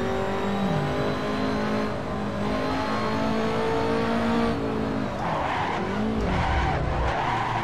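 BMW M3 E30 Group A 1986 in the Assetto Corsa video game, its tyres squealing and skidding through corners over a loud, steady engine drone, the squeal wavering and rising near the end.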